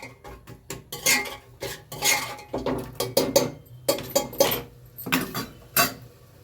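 Washed peas tipped into a pan of frying tomatoes for khichdi, with a series of sharp utensil clinks and scrapes against the pan in an irregular rhythm, close and fairly loud.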